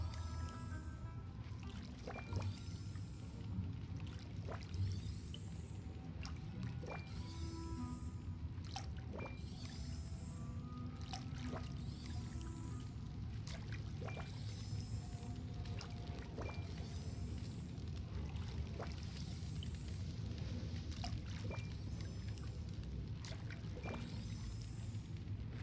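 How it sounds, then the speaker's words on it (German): Repeated watering-can pours in the Disney Dreamlight Valley video game, a series of short splashy water bursts at a steady rhythm over a soft ambient game background, with no talking. "So, jetzt das Ganze noch gießen."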